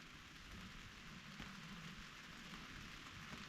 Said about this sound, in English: It just started to rain. Quite mild at the moment.